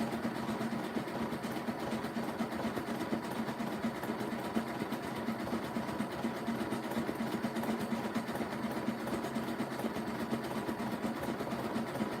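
A sewing machine running a zigzag stitch on a rope basket, with a continuous, even mechanical whir and a rapid rhythmic needle chatter that stays steady and close throughout.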